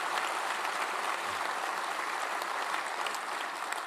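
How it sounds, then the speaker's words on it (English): Steady applause from a crowd at a sea service luncheon, a continuous dense wash of clapping at even loudness throughout with no talk over it. "let's give them a great round of applause for joining us here today as well"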